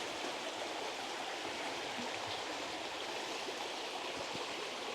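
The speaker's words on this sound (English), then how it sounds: "I'm now at the point where the two rivers meet" River water rushes steadily where two rivers, one of them the Mells River in Somerset, meet, giving a constant broadband flowing hiss up close with no voices.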